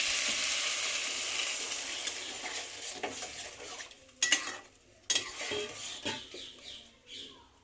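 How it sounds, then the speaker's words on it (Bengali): Fried vegetables and spices for sukto are stir-fried in a pan, with a soft sizzle that fades and several sharp spoon scrapes and knocks against the pan, close and without talk. "উচ্ছে বাদে আমি সব মশলাটা দিয়ে আর এই সব ভাজা সবজিগুলো দিয়ে একবার কষিয়ে নিচ্ছি"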